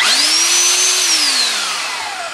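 A DeWalt rotary hammer runs loud and close with a steady whining motor that rises, holds, then winds down toward the end.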